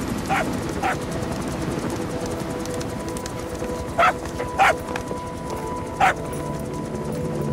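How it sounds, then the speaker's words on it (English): A dog in the video game Metal Gear Solid V gives several short, sharp barks and yips spread over a few seconds, each one brief and distinct above a steady ambient game background. "Here's the dog you brought back. Bit of a troublemaker."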